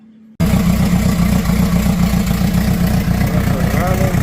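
A houseboat engine on the Murray River, South Australia, starts up abruptly and settles into a loud, steady, throbbing idle that continues to the end.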